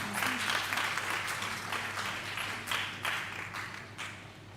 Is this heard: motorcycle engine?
no